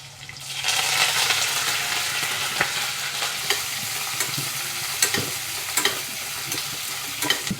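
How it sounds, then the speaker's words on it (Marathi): Curry leaves sizzling in hot oil with onion for a homemade khichdi, a loud steady hiss with occasional pops and stirring clicks throughout. "कढीपत्ता घालते आता."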